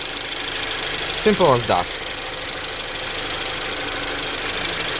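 A hot Ford Mondeo Mk5 2.0 engine idles with a steady, even hum throughout, and a voice speaks briefly over it.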